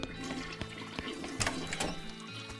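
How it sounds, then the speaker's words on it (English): A toilet flushing in the video game West of Loathing, a gurgling rush of water with scattered splashes and drips, fairly quiet and continuous for a few seconds without talk. "Flush the toilet."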